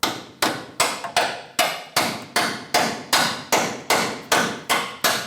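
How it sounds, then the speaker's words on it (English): A hammer strikes a metal bolt, tapping it into a track bar bushing on a Dodge Ram 2500, in a steady series of about a dozen sharp, ringing blows, each decaying before the next, close and loud. "tap it in with the hammer"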